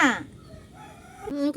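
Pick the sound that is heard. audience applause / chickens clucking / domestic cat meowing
chickens clucking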